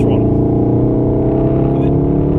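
A Volkswagen Golf R engine drones at full throttle during a track day at Wakefield. The loud, close, sustained note climbs gradually in pitch as the car accelerates.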